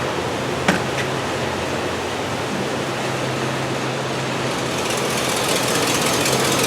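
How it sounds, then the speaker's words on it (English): A 2003 Chevrolet Silverado engine idling with a shaky, uneven run and lack of power, a steady broad rumble heard up close with a low hum and a brief knock near the start. "Take a look at a little bit of the shaky engine on our way by"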